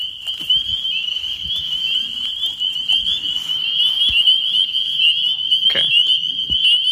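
A Lithobates frog calls at night in spring in a steady, high trilling drone that runs unbroken throughout, with a few faint knocks and rustles underneath.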